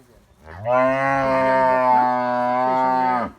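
A single long, loud moo from a dairy cow on a farm in Cumilla, steady and close, lasting about three seconds with no talking.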